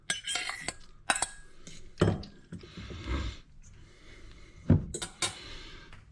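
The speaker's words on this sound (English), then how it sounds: "I'm now stirring in the potatoes, and you're going to see it's mostly potatoes and some egg" Potatoes being stirred into beaten egg in a bowl for a Spanish tortilla, giving a run of close clinks and scrapes of a utensil against the dish, several sharper knocks standing out among softer shuffling.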